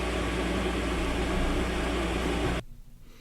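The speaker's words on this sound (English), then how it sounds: "One of those is right next to my head is the air conditioner." Dense, loud broadband whoosh of an air conditioner and an electric kettle running together close by, steady for a few seconds before cutting off abruptly to near quiet.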